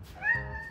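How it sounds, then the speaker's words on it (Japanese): A cat gives a single clear rising meow at close range in a house full of cats, short and alone with no voices over it. "猫がいっぱい。"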